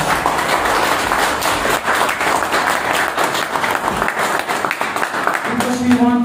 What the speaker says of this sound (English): I can please give them a round of applause